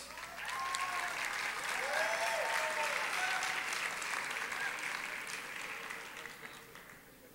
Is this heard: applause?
yes